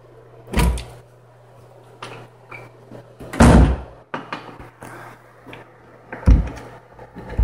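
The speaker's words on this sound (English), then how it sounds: "This door is coming off. The hinges are pulling out of the" A loose door is being worked off its frame in a walk-through, its hinges pulling out of the wall, with several heavy wooden bangs and thuds spaced irregularly between quieter knocks and rattles.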